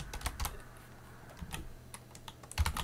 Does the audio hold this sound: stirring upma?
no